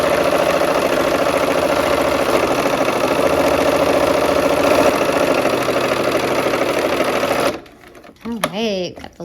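Sewing machine stitching a quilt block with a quarter-inch seam, a loud, close, steady mechanical hum and rapid needle clatter for most of the stretch, then stopping abruptly as a voice speaks.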